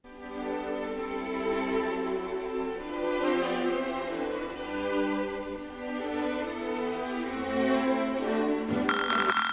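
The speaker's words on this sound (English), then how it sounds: "you heard Grieg's Saraband from his Holberg suite" Orchestral strings play the Sarabande from Grieg's Holberg Suite, a classical piece from 1884, slow, sustained and swelling, moderately soft, ending in a sudden bright burst of noise.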